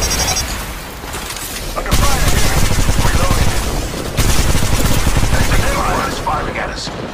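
Dense automatic gunfire and bursts from Apex Legends Mobile, loud and near, rattling almost continuously with brief lulls, mixed with game voice callouts.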